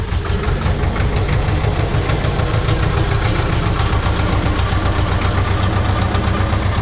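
A farm vehicle engine runs steadily and loudly up close while carrying a bale to the pasture, a constant mid-pitched rattling drone with no talk.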